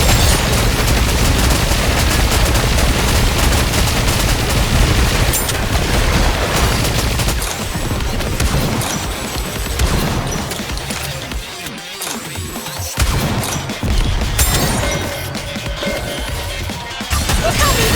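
Gunfire in Goddess of Victory: Nikke, with dense continuous volleys of shots and impacts rattling for the whole stretch, briefly thinning partway through before resuming; loud and unbroken.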